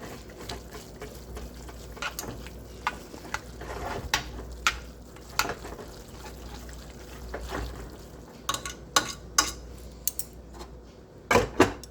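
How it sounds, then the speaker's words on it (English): Ramen in a covered pot is being stirred, giving scattered metallic clinks and scrapes of a utensil against the pot over a low simmer, growing sharper toward the end. "We're going to stir it again."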